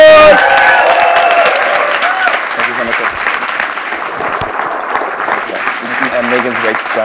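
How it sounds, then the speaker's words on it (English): An audience breaks into loud, sustained applause with some cheering after a talk, and voices speak over the clapping as it carries on. "Give it a round of applause!"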